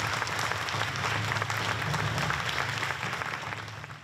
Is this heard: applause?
yes